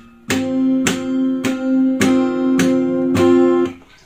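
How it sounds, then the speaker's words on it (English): An acoustic guitar strummed with the thumb while the nails catch the first, second and sixth strings; six even, ringing strums in a steady rhythm, close and clear with no voice. "when I'm rotating my hand and hitting the strings with my thumb"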